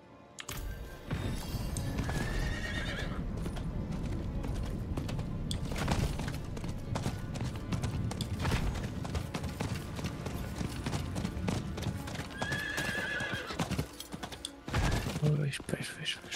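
A horse in the video game Diablo IV gallops with rapid clip-clop hoofbeats and gives two sharp neighs, under game effects with crashes and bursts, while people talk over the action.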